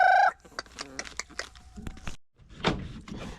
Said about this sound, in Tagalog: Ayan, may cute kaming manok.